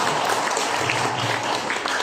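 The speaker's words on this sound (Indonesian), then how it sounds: "Tepuk tangan dulu dong teman-teman sore ini." Audience at an afternoon discussion session clapping together, a dense, steady burst of applause heard up close for a couple of seconds.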